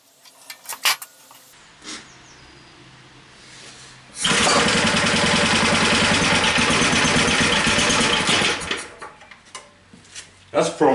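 An old rail drill's small engine, in need of a new fuel line, pulls over after a few clicks and light knocks, then sputters and runs loudly for about four seconds before cutting out.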